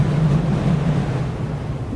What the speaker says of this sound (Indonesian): Tiba-tiba angin kencang berhembus.